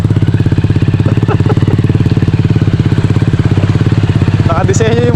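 A mud-built motorcycle engine runs steadily and loudly close by, a dense rapid idle-like throb throughout, with a brief higher whine near the end.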